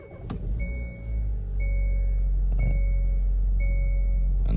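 A 2019 Hyundai Kona 1.6-liter engine, just fitted with a new starter, cranks and fires, then settles into a steady, close idle with a low continuous rumble, a faint periodic whine and a few light knocks.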